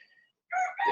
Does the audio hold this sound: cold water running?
no